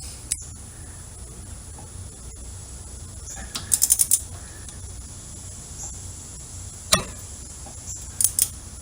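A ratchet wrench tightens a pulley bolt on an Ariens Zoom 34 snowblower, giving faint scattered metallic clicks and a few sharper close ticks against quiet background.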